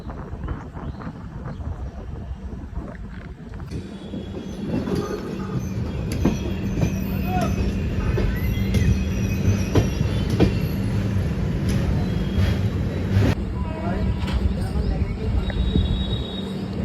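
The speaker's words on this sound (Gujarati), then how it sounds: "અત્યારે આ રોડથી ગાડી જતી હતી ઉભી રહી અને ત્યારબાદ ધીરે ધીરે ચાલુ થઈ ગઈ છે." Passenger train on a journey from Haridwar, heard from on board as it slowly starts moving again after a halt: steady low rumble and rail noise, with occasional faint squeals and clanks throughout.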